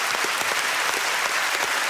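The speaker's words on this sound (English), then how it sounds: "Let's give him a round of applause." A studio audience at a television quiz show claps in a loud, dense burst of applause that holds steady throughout, with no talking over it.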